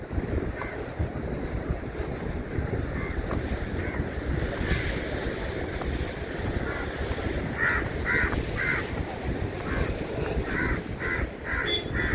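Waves wash continuously onto a beach under strong wind buffeting the microphone, with a few crow calls standing out over the surf.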